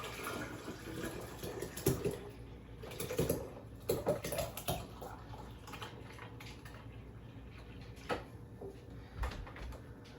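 Homemade cultured buttermilk is poured from a container into a jar in a kitchen. Soft, uneven gurgles and splashes come close up, with scattered clicks and taps in between.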